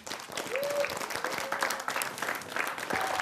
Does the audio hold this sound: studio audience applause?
yes